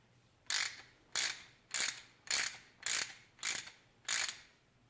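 Ratchet wrench tightening the shock absorber bolts on a Triumph Thruxton 900 motorcycle, heard as seven crisp, evenly spaced clicking bursts about two-thirds of a second apart, close and clear over a quiet background.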